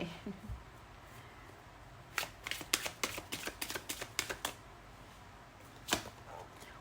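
A slightly sticky tarot deck is shuffled by hand, giving a quick burst of soft papery snaps and flicks, then a lone snap a moment later, fairly faint against a quiet room.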